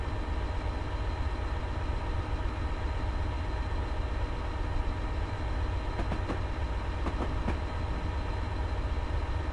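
A train rumbles past on the Settle to Carlisle line in the video game Train Simulator, with a steady heavy drone and a few clicking wheel beats on the rails partway through.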